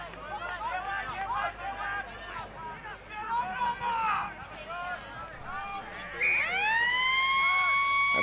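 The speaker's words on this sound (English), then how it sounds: "A siren goes for three-quarter time here at Freeling Oval." A siren sounds for three-quarter time at Freeling Oval during a country football match, a long rising wail that swells over a busy commentary and crowd bed.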